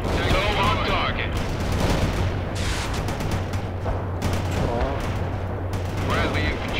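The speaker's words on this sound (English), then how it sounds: "Bradley returning fire at hostiles." Bradley APC gunfire in the World in Conflict strategy game: loud, dense bursts of rapid fire mixed with battle noise and a steady engine drone, with radio-style unit voices talking over it.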